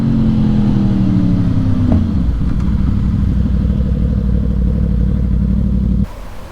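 A 2019 Honda CB500X motorcycle ridden around Haag Lake in Oregon, its engine droning steadily at close range with a slight shift in pitch early on, then cutting to a quieter hum near the end.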